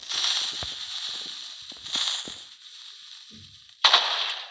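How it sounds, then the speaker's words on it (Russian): TNT blowing up in Minecraft, a few sharp hissy blasts and bursts with crackling in between, the last one sudden and loud near the end, no talking over them. "Ну вот, взрыв."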